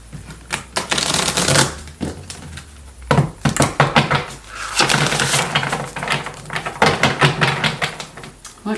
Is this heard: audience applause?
no